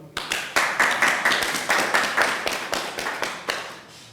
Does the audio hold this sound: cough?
no